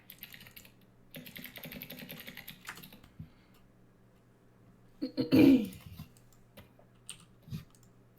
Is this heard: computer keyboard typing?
yes